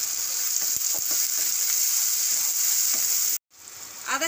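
Chopped tomatoes and green peas drop into golden onions frying in a pan, setting off a loud, steady sizzle with a few soft stirring knocks, a brief cut to silence, then the hiss rising again.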